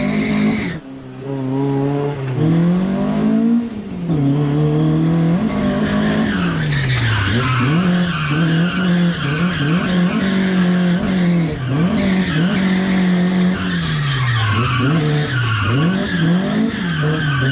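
A drifting car with a 20-valve 4AG engine, loud and close, its tires squealing in long sustained skids while the engine revs rise and fall repeatedly throughout.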